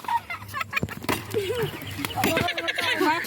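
Chickens cluck in a rural yard, brief calls and squawks mixed with people talking nearby over a low background hum.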